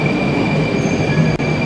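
A metro train passes through a Moscow underground station, giving a loud, steady rumble with high wheel squeal and rail noise that holds for the whole stretch, briefly dipping near the end.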